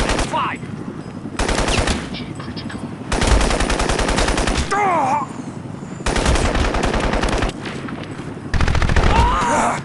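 Rapid automatic gunfire in the video game Crysis, sustained machine-gun bursts broken by brief gaps across the whole stretch, loud and close, with occasional game sound effects in between.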